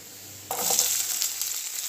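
Onions tipped into a pan of golden frying garlic set off a sudden loud sizzle that jumps up from a quiet hiss and carries on steadily close by, with no talking.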